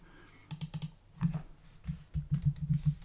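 Close, light keystrokes on a computer keyboard while page text is edited, starting as a few scattered taps and building into a quicker typing run.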